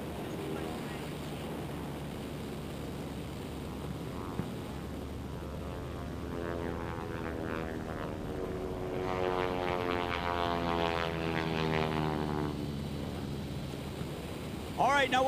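An aerobatic propeller airplane at the Reno Air Races drones steadily, with the engine note rising and shifting in pitch as it stalls and snap rolls, heard from a distance under a faint commentator's voice.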